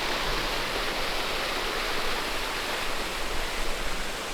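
A creek runs at high elevation in snowy off-road country, a loud, dense and steady rush of flowing water that fills the whole stretch without pause or voices.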